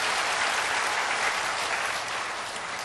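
Steady applause from a church congregation during a missionary's testimony, dense clapping filling the space at an even level throughout, with no voices over it.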